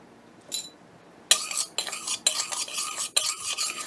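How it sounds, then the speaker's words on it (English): Split green gram is dry-roasted in a pan and stirred with a utensil: a brief scrape, then a run of close, scratchy stirring strokes with short pauses between them. "I'm going to slightly roast it."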